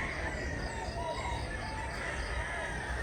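Roosters crow and chickens cluck at a Thursday poultry market in Mantalungon, Barili, a steady mix of calls over busy background noise with faint voices present.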